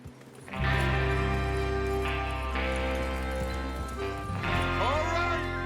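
Horse hooves clip-clop at a trot in a Western open-world video game, mixed under a steady tonal game soundtrack and ambient drone that runs throughout.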